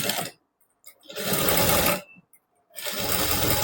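A sewing machine stitches through six layers of lining and main fabric for a long umbrella-style frock, running in three loud, close bursts separated by short silent pauses.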